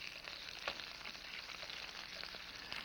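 Pork chops browning in a pan, a faint, steady crackling sizzle with a few soft pops and a light clink, heard quietly and close with no voices.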